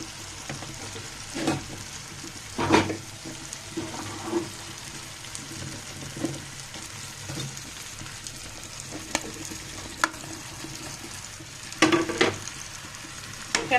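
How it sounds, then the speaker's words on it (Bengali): Young sweet pumpkin pieces frying with dried prawns in a pan, a steady close sizzle broken by scattered knocks and scrapes of stirring, no voices. "এক এক করে আমি মিষ্টি কুমড়াগুলোকে দিয়ে ভালো মতো কষিয়ে নেব"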